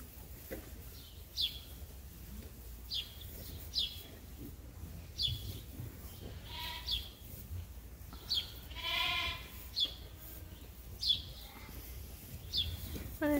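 Sheep and lambs bleat repeatedly at moderate distance on a farm in March, short calls scattered at irregular intervals over quiet outdoor background, with occasional faint bird chirps.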